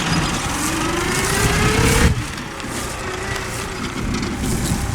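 A tractor hauling silage bales drives along with a loud engine drone whose pitch rises gradually, then drops abruptly as the load eases, followed by a steadier rumble and rattling; no one talks.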